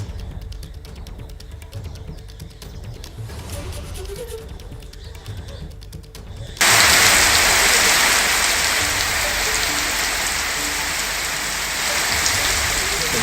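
Heavy monsoon rain pours down in Bhopal, a steady hissing downpour that turns suddenly much louder and denser midway, with no talk over it.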